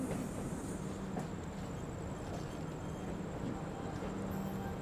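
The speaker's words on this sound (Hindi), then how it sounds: "प्लेटफॉर्म नंबर 1 पे अपना अराइवल होने वाला है और ये मोस्टली पटना तेजस राजधानी खूबसूरत से लोकोमोटिव के साथ" The Patna Tejas Rajdhani pulls in at platform 1 behind its locomotive, a steady low rumble of rolling rail cars with faint rhythmic clatter and a thin high whine throughout, fairly distant and even in loudness.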